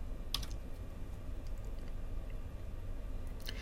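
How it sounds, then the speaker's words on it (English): Steady keystrokes on a computer keyboard as a pip install command is typed, quick light clicks in a short run against a low background hum, no voices. "So if we want to just install Numpy, I just type pip install"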